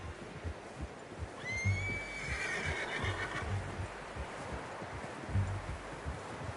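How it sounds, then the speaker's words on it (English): A horse neighs once in a video game, a clear drawn-out whinny over steady rustling and soft hoof-like thuds in an outdoor setting. "How's that new horse?"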